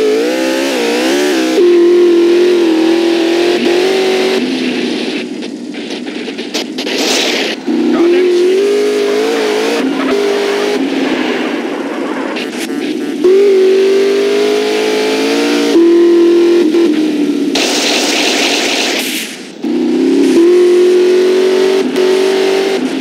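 A car engine in the Grand Theft Auto video game revs and accelerates repeatedly, its pitch climbing in loud, sustained surges with brief dips between gear changes, close and continuous.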